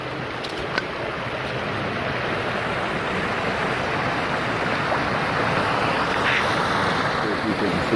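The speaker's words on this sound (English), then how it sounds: "Now we've just got a nice little waterfall." A small waterfall in a swollen creek sends out a steady, broadband rush of splashing water, continuous and fairly close, with faint wind.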